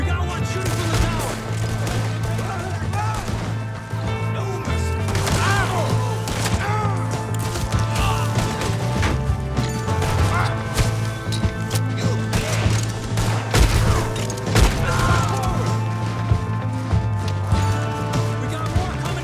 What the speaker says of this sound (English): We got one shooting from the tower!